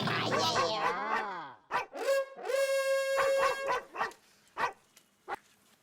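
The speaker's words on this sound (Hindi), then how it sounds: "ये कुत्ता नहीं मेरे मोबाइल की रिंगटोन बज रही है।" A mobile phone ringtone made of dog sounds plays: a burst of yapping, then a long, steady, howl-like tone, followed by short barks and yips with quiet gaps between them.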